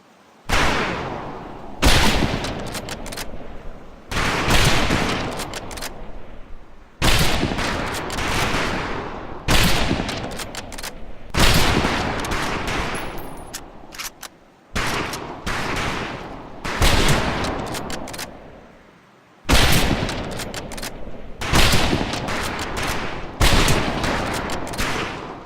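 Rifle volley fire at a boot-camp firing range in Medal of Honor: Pacific Assault, loud bursts of overlapping gunshots repeating roughly every two to three seconds, each burst followed by a short ringing decay, with no talk.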